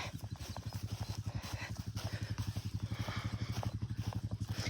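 A herd of cows walks along, hooves clopping in a steady, continuous rhythm close by, with a farmhand calling the animals faintly under the footsteps.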